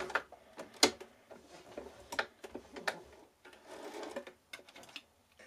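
Sewing machine stitching elastic on a dress gauntlet, giving short irregular bursts of mechanical ticking and clatter with brief pauses, fairly quiet and close.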